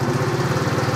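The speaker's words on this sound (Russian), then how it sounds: "Что ж, заводим наш мопед." A Viper Storm 50 moped's small engine runs at a steady idle, a close, loud, even putter with a fast regular pulse.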